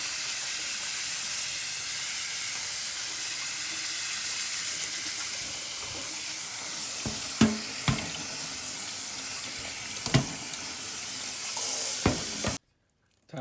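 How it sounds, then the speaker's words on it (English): Potatoes and carrots rinsed under running water, a steady rushing stream from a tap with a few hollow knocks and clunks of vegetables against the sink before it cuts off abruptly. "Next thing you want to do is to rinse them off very thoroughly."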